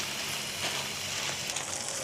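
Food frying on a camping stove gives a steady, soft broadband sizzle with faint crackles, heard close with no talking.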